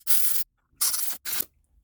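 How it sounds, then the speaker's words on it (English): Three hissing blasts of compressed air from an air nozzle clearing motorcycle parts on a 125cc bike, each burst about a third of a second long, loud and close, with short silent gaps between. "we'll grab air, if you've got a compressor, air nozzle, or canned air if need be"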